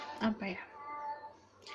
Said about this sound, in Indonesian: Biasa kalau kalian denger meong-meong, itu kucing aku, Tomoy.